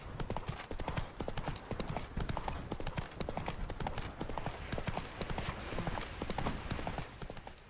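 Horse hooves clip-clop in a quick, uneven gallop rhythm while riding in The Witcher 3, loud and close throughout.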